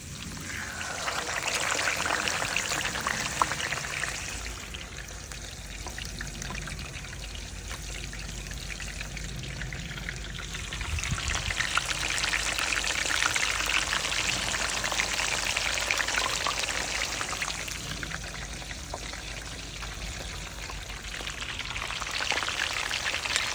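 Fish for Jamaican escovitch sizzles steadily in hot oil in a pot, a continuous crackling hiss that swells and eases slightly throughout, close and fairly loud.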